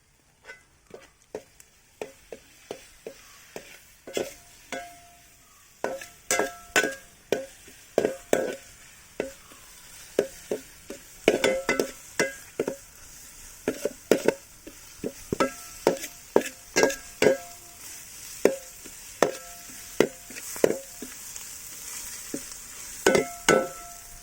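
Ginger garlic paste frying in a pan while cooking kanthari chicken, a soft sizzle under repeated scraping stirs and clinks of a spoon against the pan in an uneven rhythm, close up, no speech.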